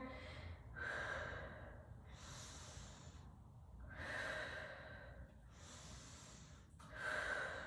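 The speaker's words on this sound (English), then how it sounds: "Take a couple breaths here" Slow, quiet breathing during a stretching exercise, with the head and neck relaxed and the chin dropped to the chest: three or four long, airy inhale and exhale cycles, close and soft, with no talking.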